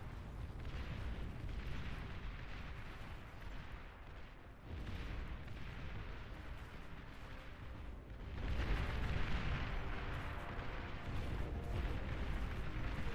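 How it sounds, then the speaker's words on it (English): Artillery-like explosions from hounds firing in the real-time strategy game Beyond All Reason, a continuous low rumble of distant booms that swells louder in the second half, with no speech. "keep hearing these like artillery explosions"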